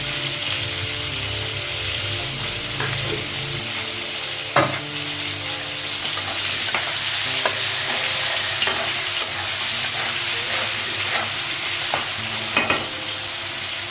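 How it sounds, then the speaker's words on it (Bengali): Fish frying in a pan, a loud steady sizzle with occasional sharp clinks of a spatula, continuous for the whole stretch with no talking. "মাছগুলো ভাজা হয়ে গেছে।"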